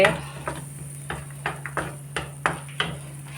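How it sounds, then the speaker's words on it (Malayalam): A pan of green chili, garlic and ginger being sautéed, with a soft sizzle under a series of sharp spatula scrapes and taps against the pan, about eight strokes in a loose rhythm, close by. "നമ്മൾ ഒരു പച്ചമുളക് ഒരു നാല് അല്ലി വെളുത്തുള്ളി ചെറിയ കഷ്ണം ഇഞ്ചി എന്നിവ ചേർത്തൊന്നും കൂടി ഒന്ന് വഴട്ടുണ്ട്"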